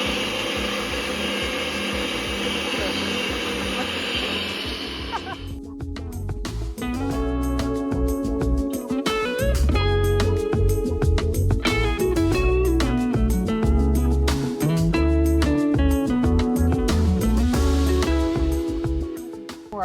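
Countertop blender roaring loud and steady as it purees a thick plant-based pumpkin spice protein shake with cashew milk, motor pitch shifting as the mix thickens, starting after a brief whir.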